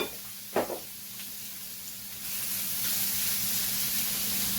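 Saltfish frying in a pan beside a Jamaican-style curry dumpling and papaya dish, a soft sizzle that builds into a steady hiss after a couple of small clatters early on.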